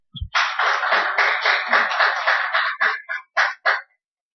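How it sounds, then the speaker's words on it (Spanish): A church congregation applauding to welcome the Holy Spirit, a loud burst of clapping that runs steadily, then thins into a few scattered final claps. "démosle ese fuerte aplauso de bienvenida"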